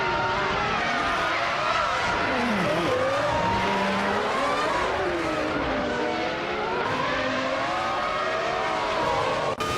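Ferrari F300 race car in a racing video game, engine revving loudly and continuously with pitch sweeping up and down through gear changes, other cars close by, no pauses throughout.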